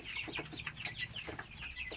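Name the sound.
chickens clucking on a poultry farm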